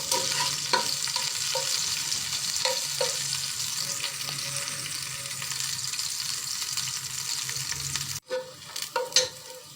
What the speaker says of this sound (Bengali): তেল দিয়ে নেড়ে চেড়ে হালকা ব্রাউন করে নিয়ে কুমড়োগুলোকে আমি এখানে দিয়ে দেবো।